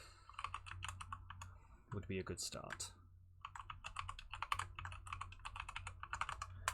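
Rapid clacking bursts of typing on a mechanical keyboard, close and steady, with a brief spoken phrase breaking in near the middle.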